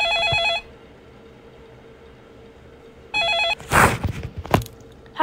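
A telephone bell rings in a Roblox game, two electronic ringing bursts separated by silence, followed by soft thuds and rustling movement.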